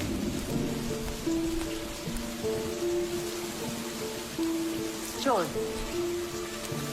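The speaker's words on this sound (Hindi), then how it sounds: "तुम इसलिए बारिश की बूंदें पीती हो?" Rain falling steadily with a continuous wash of drops, accompanied by sustained tonal music throughout and a brief sweeping sound near the end.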